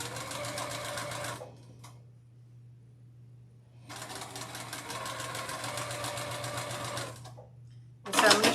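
A domestic sewing machine stitches across a quilt strip in two bursts of rapid, even needle chatter, separated by a pause with a low motor hum underneath, ending in a brief sharp rattle.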